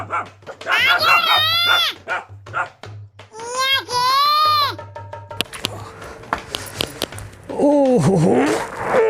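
A dog barks and whimpers among people talking in a comedic rural Rajasthani household scene, with sharp yelps and whines overlapping steady conversation, and a voice also present.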